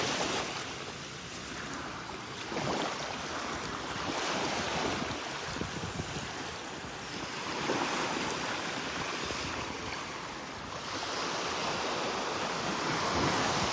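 Ocean waves wash up and draw back along a sandy Gulf beach at Delnor-Wiggins as the tide comes in, pulling shells into the water; a steady broadband surf roar rises and falls in slow swells, with wind buffeting the microphone.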